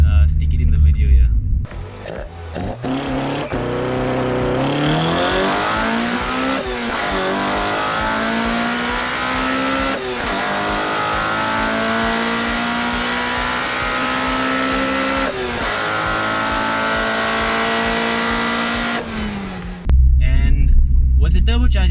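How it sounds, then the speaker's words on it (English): A Toyota Corolla 4AGE 20-valve twin-cam engine with individual throttle bodies revs repeatedly, climbing and falling in pitch with a sharp, raspy intake tone, loud and close, with brief cuts between pulls. "This car has individual throttle bodies, and if you put nice trumpets on them, the sound is really nice"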